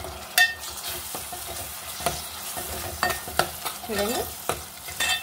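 Finely chopped tomatoes frying in a pan with onions and ginger garlic paste, a steady close sizzle with scraping stirs and clinks, and a voice briefly speaking.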